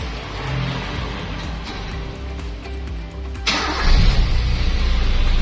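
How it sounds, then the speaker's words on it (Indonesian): A Toyota Kijang Super engine turns over and fires, the idle thickening into a louder, rougher rumble midway as it catches and runs, close and loud with no talk. "mobilnya di start juga gampang banget"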